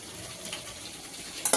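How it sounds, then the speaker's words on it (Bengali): Fried potatoes go into a pan of browned chicken curry, giving a low, steady sizzle with soft stirring scrapes and a sharper clatter right at the end. "এবারে ভেজে রাখা আলুগুলো দিয়ে দিচ্ছি।"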